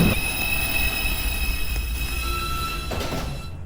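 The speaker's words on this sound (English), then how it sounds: "This is a Manhattan-bound 2 train." A Manhattan-bound 2 train at a subway station at night screeches loudly, its wheels squealing on the rails in sustained high whines over a low rumble of cars rolling through.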